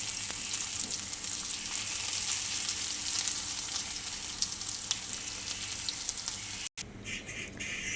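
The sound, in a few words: water lily (shapla) frying in a pan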